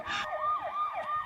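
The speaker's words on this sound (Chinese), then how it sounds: "救护车已经来了。" Ambulance siren wailing in a rising and falling pattern, moderately loud and close, repeating several short cycles with no talk over it.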